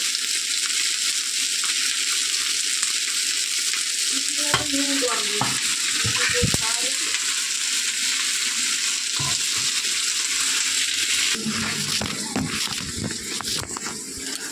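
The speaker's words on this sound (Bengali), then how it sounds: "মাছের যে বেগুন দিয়ে করবো সেই বেগুনটা ভেজে নেব" Brinjal pieces frying in very hot oil in a kadai, a loud continuous close sizzle with occasional clatters and scrapes of a spatula stirring, and no speech.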